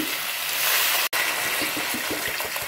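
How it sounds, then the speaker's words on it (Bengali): Two mugs of water poured into an egg and potato curry, giving a brief gushing splash with a short break midway, then bubbling and sizzling from the pan. "পাঁচ মিনিট কষিয়ে নেওয়ার পরে দিয়ে দিচ্ছি 2 মগ পানি"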